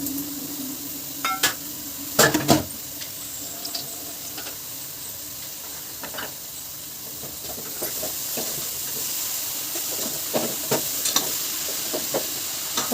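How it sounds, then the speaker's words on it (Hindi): Bottle gourd goes into a pressure cooker and is stirred in with a spoon, giving scattered metallic scrapes and clinks over a steady low hiss, close and moderately loud with no talking. "और लौकी डालने के बाद हम अच्छे से चम्मच की सहायता से इसको मिक्स कर देंगे"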